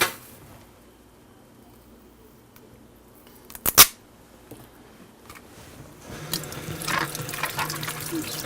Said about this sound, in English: Wash the apples.